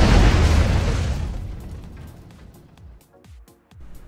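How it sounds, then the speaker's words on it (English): A visual-effects explosion with a fireball erupts in a loud, broad boom at the start, then its rumble fades over a couple of seconds into scattered low thuds and faint crackling debris. "So we've repositioned the explosion, we've masked out where the lighting would fall from the fireball"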